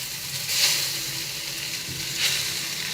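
Beaten egg poured into a hot pan and scrambled for a Burmese khauk swe noodle dish gives a steady close sizzle, with two brief louder bursts as it is stirred.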